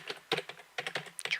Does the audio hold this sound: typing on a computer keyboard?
yes